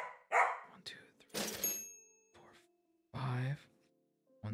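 A dog barks a few times in short bursts indoors, loud and close, mixed with other brief voice-like sounds and a sigh.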